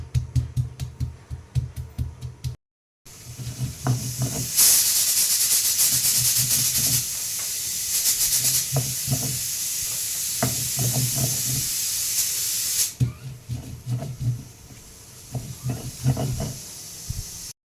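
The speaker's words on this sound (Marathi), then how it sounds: "दोन शिट्ट्या आता कुकरला द्यायचे आहेत" A pressure cooker cooking ambadi greens lets out a loud hissing rush of steam that lasts several seconds, with rhythmic low rattling pulses before and after, all close by and without speech.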